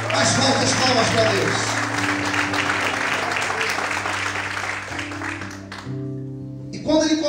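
A church congregation at an evening service breaks into strong applause for God, a loud, dense burst of clapping over sustained keyboard tones that gradually thins and fades out near the end, with a voice returning briefly.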